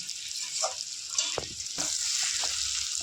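Potatoes frying in a pan with a steady hiss of hot oil, broken by a few soft stirring knocks and clinks, close up and without talk.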